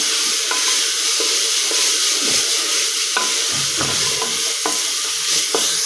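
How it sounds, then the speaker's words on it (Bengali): Dal with winter vegetables being stirred in a pan, with a steady frying sizzle and repeated scraping, clattering strokes of a spoon against the pan at an irregular rhythm, close and fairly loud. "ডালটাও সবজির সঙ্গে ভালো করে মেশানো হয়ে গেছে"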